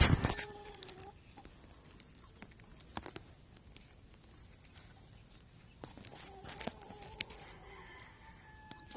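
A brooding hen moves around a backyard coop, clucking softly amid scratching and footsteps, with a few louder squawks and occasional knocks nearby.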